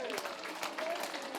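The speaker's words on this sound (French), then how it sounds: "applaudissez, criez fort." A crowd at a local event where dresses are presented applauds and cheers. The clapping is faint, dense and distant, with a few higher shouts or whistles mixed in, and it lasts only a moment.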